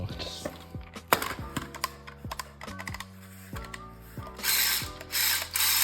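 A VEX Over Under competition robot's intake, driven directly by a 600 RPM motor, runs in short bursts with rapid clicking and ratcheting mechanical chatter and whirring spin-ups at close range.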